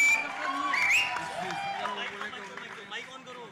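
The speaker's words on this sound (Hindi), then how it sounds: "दादा के लिए एक बार जोरदार तालियां हो जाएं." Audience applause and cheering at a Bollywood song launch event, a crowd clapping and whooping beneath an announcer's amplified voice, the clapping fading gradually.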